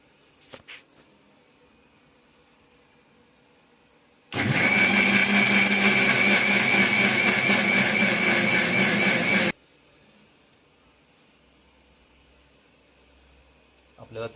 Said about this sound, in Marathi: हे वाटण आता मिक्सरमध्ये वाटून घ्यायचं आहे.